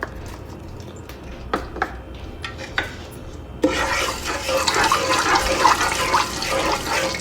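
Hot oil tinted red with paprika is poured over a finished pot of nihari. A few faint clicks come first, then a sudden loud, hissing sizzle that keeps going steadily up close.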